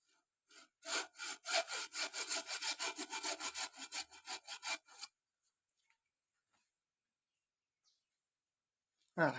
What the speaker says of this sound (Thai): ก็ใช้เลื่อย ผ่าลงไปนะครับ